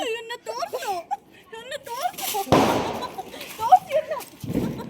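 Diwali firecrackers burst with a couple of sharp, loud cracks amid excited voices and children talking nearby.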